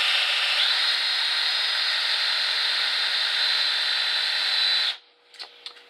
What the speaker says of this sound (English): I'm going to have trouble drilling this.